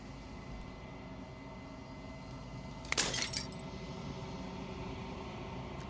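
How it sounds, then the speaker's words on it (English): A final fragment of glass shatters in Slay the Princess, one bright, brief crash in the middle of a quiet, steady drone. "As the final fragment of glass shatters, you see yourself with newfound clarity"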